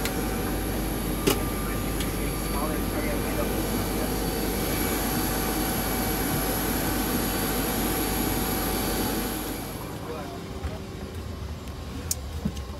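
Inside the cabin of a CRJ700 regional jet during boarding, a steady loud roar of engines and cabin air fills the space before dropping to a quieter hum near the end, with a few clicks and knocks.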